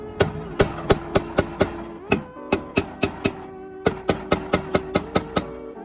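A hammer knocks at a Lexus tail light in rapid runs of sharp metallic blows, about twenty strikes with brief pauses between groups, close over a faint engine hum.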